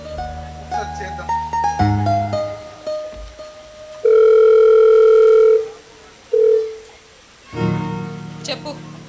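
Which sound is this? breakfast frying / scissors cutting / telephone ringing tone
telephone ringing tone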